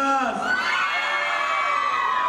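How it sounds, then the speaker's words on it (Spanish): A concert crowd of girls lets out a loud, sustained high-pitched scream and cheer, filling the whole stretch without pause. "El grito fuerte de las chicas."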